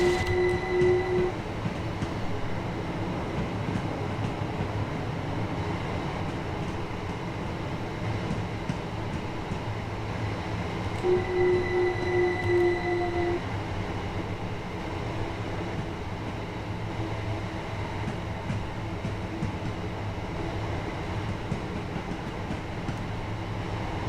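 A train in Train Sim World on the East Coastway Line rumbles steadily along, with a low continuous drone, faint wheel squeals and occasional tonal whines rising over the running noise, no talk.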